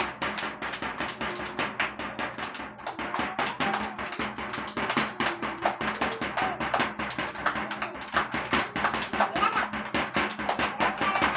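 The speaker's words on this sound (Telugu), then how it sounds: "పిల్లలు క్లాప్స్ కొట్టండి." Anganwadi preschool children clap their hands together in a steady, rhythmic series of sharp claps that continue throughout, fairly close and lively, with a few voices faintly underneath.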